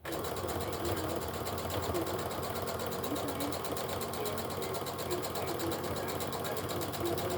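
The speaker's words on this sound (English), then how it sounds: "While I'm sewing this, Back stitch, so to give it stability" A sewing machine back stitches a period bag seam, running in a continuous, even rapid chatter close by with no pauses.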